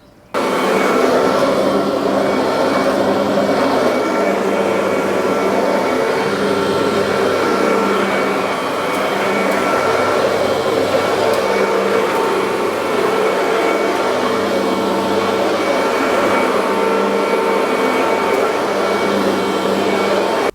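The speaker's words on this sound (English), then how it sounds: "We're going to go ahead and get this vacuumed up." A vacuum cleaner runs steadily while vacuuming a coated garage floor, a loud, continuous whooshing drone that holds nearly unchanged throughout with slight shifts in pitch, with no talk.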